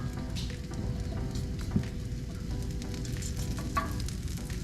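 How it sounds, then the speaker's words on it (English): Ginger sizzles and crackles in a hot pan for ramen, a continuous frying hiss with scattered pops, close and moderately loud. "There's a sizzle."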